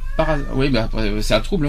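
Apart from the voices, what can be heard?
cat meowing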